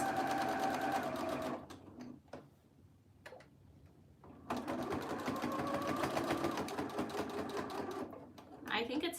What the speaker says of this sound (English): So just a straight stitch, 1/4 of an inch from the edge.